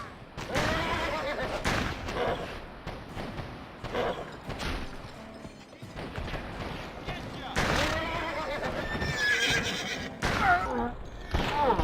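Horses in the video game GUN whinny and neigh several times amid hoof clatter and thuds, with people talking over the commotion.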